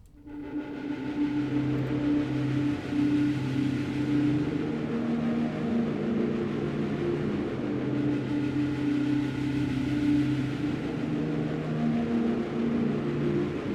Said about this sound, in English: Then for some more melody sounds, it's just this like pad type of thing.